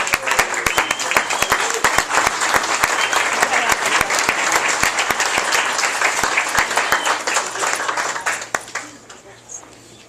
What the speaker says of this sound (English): So, I'd like to also give them a round of applause.